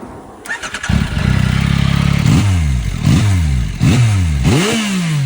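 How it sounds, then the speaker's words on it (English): Stock exhaust on a Yamaha R9 motorcycle fires up with a brief starter crank, then settles into a loud, close idle and is blipped through four sharp revs that rise and fall in a steady rhythm. "I'm gonna play it on the screen just in case if you haven't heard it already."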